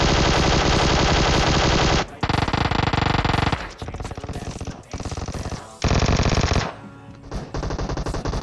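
Loud, rapid automatic gunfire from PUBG Mobile gameplay rattles in long sustained bursts separated by short pauses, with a few shorter volleys near the end.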